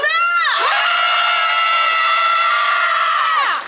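A concert crowd at a hospital concert cheers and screams loudly for a singer, a dense, sustained roar of many high voices that swells, holds for about three seconds, then fades away.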